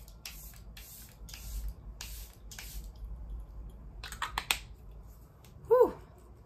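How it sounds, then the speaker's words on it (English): Charlotte Tilbury Airbrush Flawless Setting Spray hisses out in a series of quick pumps, about eight short bursts in two clusters, followed by a brief louder clatter near the end, with no talking. "I'm going to use my Charlotte Tilbury Airbrush Flawless Setting Spray."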